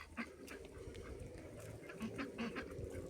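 Ducks quacking and a white goose honking outdoors, several short calls scattered over steady background noise, moderately near.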